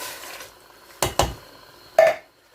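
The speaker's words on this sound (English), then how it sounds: "We're going to give that a good stir." A spoon knocks against a pot while bean stew is stirred, giving a few sharp scraping clatters spaced apart, close and fairly quiet, with soft background hiss between.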